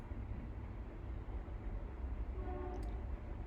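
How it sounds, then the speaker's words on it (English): A train rumbles past on a nearby railway line, a low steady roar that fills the whole stretch, with a faint horn-like tone near the end. "there is a railway line here where the trains pass pretty frequently. So maybe I'll wait a bit till the sound of the train passes."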